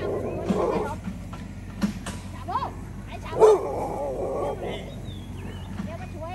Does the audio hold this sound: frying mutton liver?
no